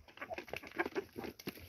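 Hens clucking and murmuring in a pen on a farm where pigs and chickens are raised, a busy cluster of soft overlapping calls at close range with no talk.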